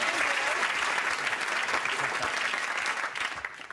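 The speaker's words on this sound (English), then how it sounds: "Round of applause for all our audience members." Studio audience on a comedy game show bursts into steady, sustained clapping, a dense wash of many hands at even loudness that starts to thin and trail off toward the end.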